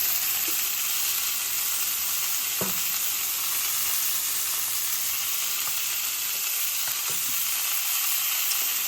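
Pork tenderloin, dry-brined with salt, browns in a hot pan at home, giving a steady broad sizzle throughout with a few faint scrapes of stirring or turning.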